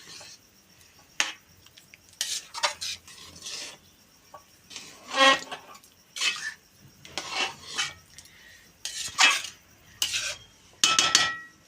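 A spoon stirs carrot halwa with added milk in a pot, with bursts of metallic scraping and clinking against the pot's sides in uneven strokes, close and fairly loud, separated by short quiet gaps.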